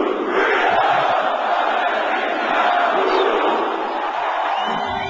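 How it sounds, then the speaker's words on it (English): Large crowd at an Amway/Quixtar rally chanting in unison, a dense, loud roar of many voices sustained throughout with little break. "His vision of financial freedom moves the crowd to a chant we hear over and over again."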